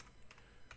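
Keys on a computer keyboard click quietly while a command is typed, a few soft, quick taps spaced unevenly with a faint hum behind them.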